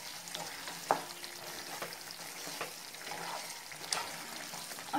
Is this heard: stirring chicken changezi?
yes